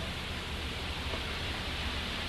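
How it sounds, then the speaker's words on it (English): Steady, dense broadband white noise fills the whole stretch at a constant level, like loud static, with no other sounds. "It's every sound in the world all pushed together to make one really terrific noise"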